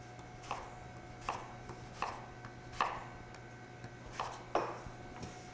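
A knife chops through butternut squash on a board in about six separate, evenly spaced cuts. Each one is a soft thunk close by against quiet kitchen background hum, with no talking.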